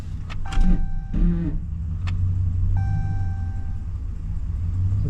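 A 2015 Ram truck with rear impact damage and a transfer case problem idles in neutral with a low steady rumble, while brief chime tones sound inside the cab.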